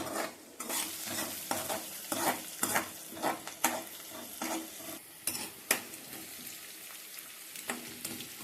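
Tempering of seeds, curry leaves, green chillies and onions frying in oil in a pan, a soft steady sizzle broken by repeated scraping stirs of a spoon, close and fairly quiet.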